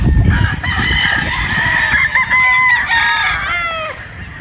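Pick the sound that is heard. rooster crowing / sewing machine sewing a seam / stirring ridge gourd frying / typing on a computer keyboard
rooster crowing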